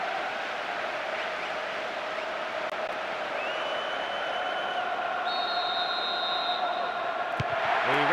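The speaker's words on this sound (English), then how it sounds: "just listen to the crowd" A large stadium crowd in the football game PES 2009 on PS2 roars in a steady, dense wash, swelling slightly louder near the end, with a few faint whistles above it.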